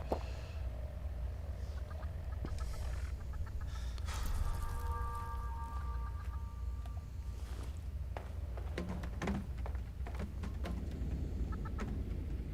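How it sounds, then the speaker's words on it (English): Chicken clucking in the video game Fallout 76, a run of short bird calls and squawks over a low, steady ambient rumble, moderately near, with no talking. "Random chicken."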